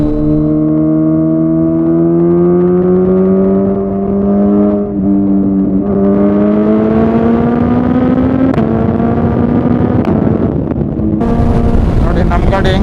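A Suzuki Hayabusa with a Lextek dual end-can exhaust idles and revs, its loud rich engine note rising steadily in pitch, with wind buffeting and a sharp burst of noise near the end.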